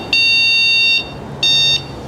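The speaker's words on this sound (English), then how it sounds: "And you can use the bell, the klaxon." Two loud, shrill electronic horn blasts from a Fiido D11 folding electric bike sound up close, the first lasting nearly a second and the second shorter after a brief pause.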